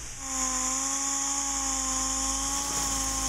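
A steady, high-pitched dual-action sander whine runs continuously at close range while sanding filler on a car bumper with 80-grit paper, an even motor drone with no pauses and no voices.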